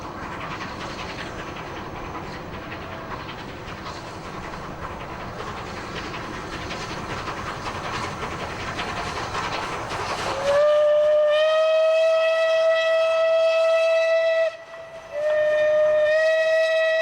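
A steam locomotive runs along a railway line beside the River Medway, its steady rumble filling the first part before a loud, sustained whistle sounds close by, breaking off briefly and then resuming.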